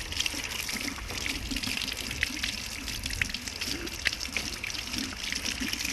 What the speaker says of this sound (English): I just use a quick water-only rinse to clean my hands.